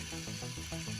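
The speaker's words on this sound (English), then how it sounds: "It's the sound of a cassette gearing into action and music taking control." A short mechanical whir with rhythmic clicking as a cassette tape mechanism's small motor and gears engage, close and fairly quiet.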